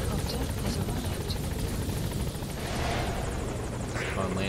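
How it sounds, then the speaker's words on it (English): A support helicopter arriving in Metal Gear Solid 5: The Phantom Pain, its steady rotor roar filling the scene from start to finish at a constant level, with talk and radio chatter running over it. "Support helicopter has arrived."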